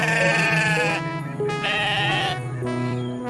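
A goat in an animal cartoon bleats loudly in three drawn-out, wavering calls separated by short pauses.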